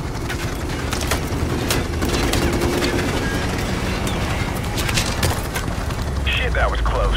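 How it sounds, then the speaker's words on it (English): Dense gunfire from Call of Duty: Modern Warfare Remastered: bursts of automatic weapons and scattered shots roll on without pause, loud and close, with booming impacts mixed in and radio-style voices talking over the battle. "Taking fire here."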